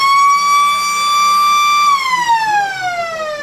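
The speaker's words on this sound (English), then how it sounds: "there is the siren and the end of the second quarter" A loud electronic siren at an Australian rules football ground marks the end of the second quarter in a local league match between Balwyn and Doncaster East, holding one steady tone before sliding downward.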